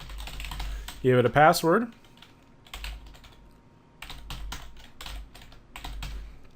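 Computer keyboard typing while filling in a web form: short bursts of close, crisp key clicks, with someone briefly speaking before the keys start.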